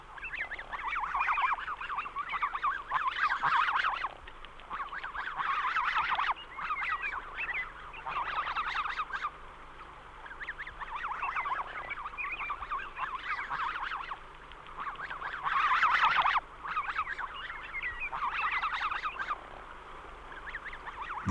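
Snow geese swimming behind a canoe in Missouri give bursts of nasal honking that come in clustered, overlapping calls separated by short lulls, close and fairly loud, with no voices.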